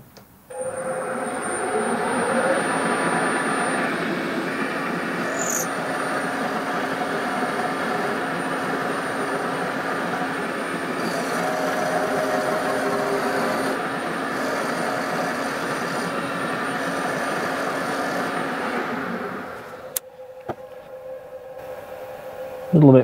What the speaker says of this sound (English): So I've got it in the milling machine and I've got my 10mm carbide cutter on